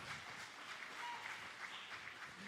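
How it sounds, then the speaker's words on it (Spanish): Church congregation applauding during a Spanish-language sermon, a steady wash of many hands clapping together at moderate volume throughout, with no speech over it. "Alguien tiene que aplaudir fuerte a su Señor por eso."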